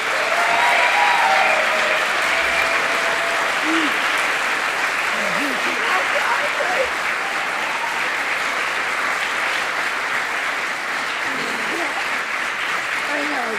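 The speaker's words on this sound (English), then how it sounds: "We don't usually clap during the service, but we all know we had to do that." A congregation applauds during a Shabbat evening service, sustained dense clapping that fills the room evenly from start to finish, with faint voices and whoops mixed in.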